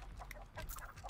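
Chicken clucking in The Texas Chain Saw Massacre video game, a short run of quick, faint clucks at a distance against low background noise.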